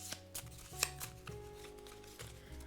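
A deck of cards is shuffled by hand at a Cthulhu: Death May Die board game session, giving several soft close riffles and flutters with one brighter snap, over quiet background music.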